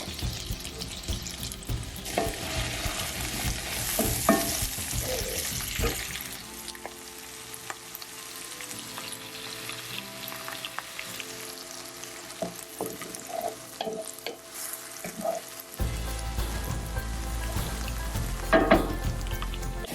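Vegetables soften in butter in a hot skillet, sizzling unevenly with stirring clatter, alongside running water and a low steady hum toward the end.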